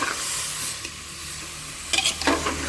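Marinated potatoes sizzle and fry in a covered pan while being stirred, a steady close hiss with scraping stir sounds and a burst of clatter near the end.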